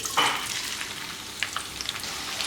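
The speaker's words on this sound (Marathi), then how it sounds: "आता आपण हा कांदा कढईत टाकू." Sliced onion hits hot oil in a kadhai and fries with a bright, close sizzle that flares at first, then settles into a steady crackling hiss.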